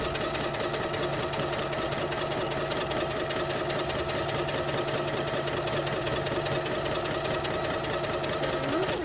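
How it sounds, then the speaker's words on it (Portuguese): A sewing machine stitches along a marked line while making a cloth doll body, its fast mechanical clatter running loud and unbroken throughout, close by. "E você vai costurando em cima da linha aqui, ó."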